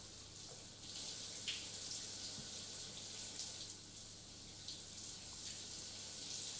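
A running shower hisses steadily at a low level, a continuous soft spray of water with no voices.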